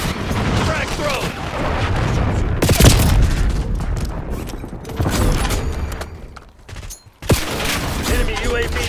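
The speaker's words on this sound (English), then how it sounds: "Frag thrown." Gunfire and explosions from a Call of Duty video game clatter continuously, with a sharp frag grenade blast near the three-second mark and another heavy boom near the seven-second mark.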